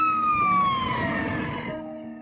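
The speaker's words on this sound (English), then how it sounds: "The Doppler effect is the change in pitch observed when a sound source moves" A passing emergency siren whose wailing tone slides steadily downward in pitch, loud and close at first and then fading as it moves away, heard alone.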